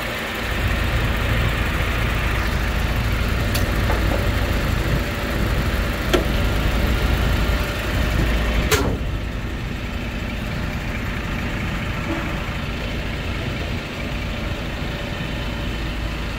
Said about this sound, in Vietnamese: Cục máy nổ em ru luôn anh em.